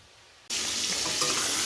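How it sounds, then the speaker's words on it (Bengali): Potatoes for aloo dum hit a hot pan of oil and burst into a loud, dense sizzle after a quiet moment, frying steadily and close up. "আলুর দমের আলু ভাজা হচ্ছে"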